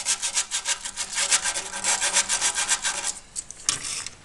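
A brush scrubs rapidly back and forth on the sheet-metal bodywork of a 1976 Simca 1100 under restoration, producing a close, rhythmic rasping in quick even strokes that slows near the end.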